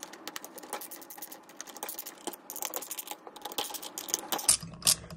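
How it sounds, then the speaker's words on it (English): A ratcheting screwdriver backs screws out of a 66/80 cc motorized bike engine case, giving rapid, close, dry clicking in short irregular bursts that get a little louder toward the end. "the ratcheting aspect of it helps to remove screws much faster"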